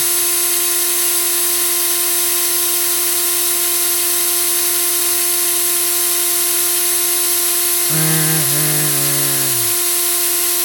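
A homemade jig driven by a motor winds fused clapton wire, making a steady, loud mechanical hum with sustained tones and a brief pitch-shifting whine near the end, close with no talking.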